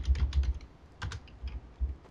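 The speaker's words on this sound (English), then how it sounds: "It's too busy typing." Typing on a computer keyboard during a TF2 Mann vs. Machine session, in bursts of quick clicks broken by short pauses, near and clear with no speech.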